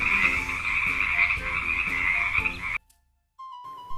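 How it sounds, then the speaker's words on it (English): Frog croaking loudly and close in a continuous rattling run for almost three seconds, then a short silence followed by a fainter tonal call. "Frog makes a croak croak sound."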